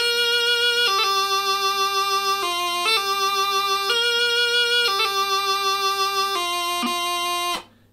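Bagpipes playing the second phrase of The Rowan Tree, a loud sustained chanter melody with crisp gracenote embellishments over a constant low drone, ending abruptly.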